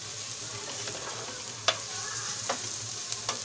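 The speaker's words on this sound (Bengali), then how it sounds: "দেখেন কি সুন্দরভাবে আমি কষাচ্ছি।" Crab sautéing in hot oil, a steady close sizzle with a few sharp scrapes of the spatula stirring the pan.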